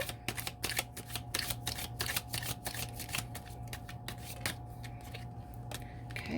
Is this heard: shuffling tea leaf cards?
yes